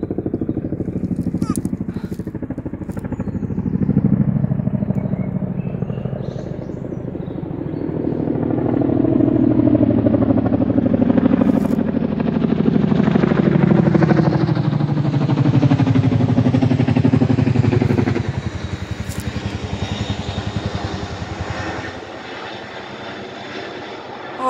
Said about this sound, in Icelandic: Og bara þyrla hér flaug yfir. Alveg rosalega lágt.